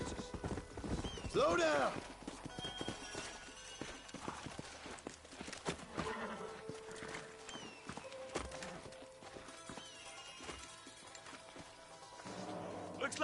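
Horses' hooves clip-clopping on ground in Red Dead Redemption, an irregular trotting rhythm under game dialogue with a short whinny early on; a voice shouts once.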